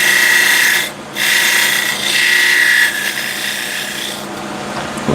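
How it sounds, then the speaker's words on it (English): Small spindle gouge cutting beads on a wooden spindle turning on a lathe, a steady close scraping rasp with a brief dip near the start and a slight change in tone midway. "And now small spindle gouge, and I need to make beads here."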